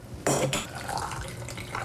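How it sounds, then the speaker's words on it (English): Boiling water poured into glass canning jars packed with tomatoes and lemon juice, a sudden splashing gush with clinking glass that settles into a steady liquid rush. "Time to fill the jars with boiling water, wipe off the rims."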